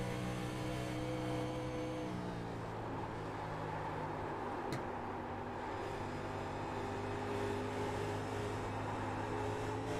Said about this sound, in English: Great sound on board as you can hear that throttle input from the 2 working his way down the back straightaway